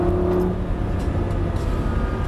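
A car accelerates on a driving course, its engine a steady loud hum with a low tonal drone that eases slightly after the first half second, running on without voices.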